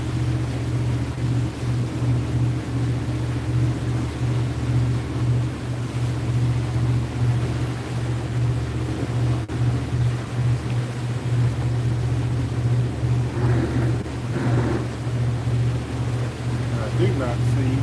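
Boat engines rumble in a steady low drone throughout, with water and wind noise over the top and brief faint sounds near the end.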